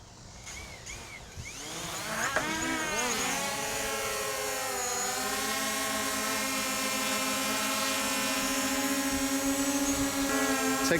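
A DJI Mavic Pro drone spins up and lifts off, its propeller whine rising and sweeping in pitch, then settling into a steady buzzing hover that carries on loud and continuous.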